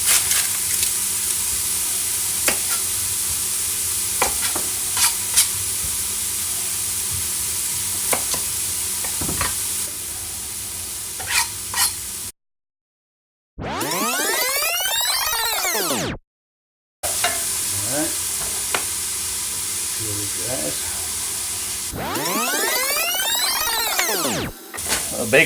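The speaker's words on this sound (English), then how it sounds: "Bacon's starting to render down, get cooked up a little bit, starts to drop its oil." Bacon renders in a pot for potato, bacon and leek soup, giving a constant loud sizzle and hiss with occasional scraping stirs, broken by brief silences and a couple of sweeping gusty swells.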